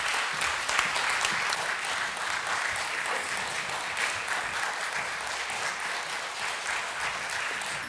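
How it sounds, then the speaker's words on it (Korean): Sustained audience applause in a church music concert hall welcoming the first performance, a dense, even roar of many hands clapping at moderate distance for the whole stretch, with no talk over it. "여러분들의 큰 박수로 오늘 첫 무대 맞이해 주시죠"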